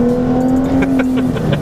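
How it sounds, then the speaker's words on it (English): A 2014 Dodge Charger SXT engine hums at a steady, loud idle-like drone with a strong low tone and a few faint clicks, heard close up for a short stretch without talk. "It does make a good noise, this car"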